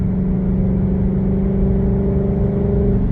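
A car's 5.0 V8 holds a steady, dense, throaty drone, loud and close throughout, without voices.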